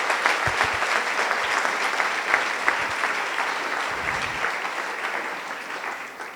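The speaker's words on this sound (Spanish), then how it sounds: "denle un aplauso más grande todavía a nuestro Rey" A church congregation claps in sustained, steady applause, with a few isolated louder claps standing out before the clapping gradually thins toward the end.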